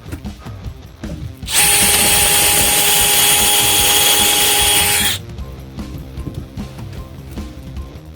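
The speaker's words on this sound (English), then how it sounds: "So pre-drill again in this area." A power drill pre-drilling whines loudly at a steady high pitch for a few seconds, then stops, leaving quieter clattering and handling noises.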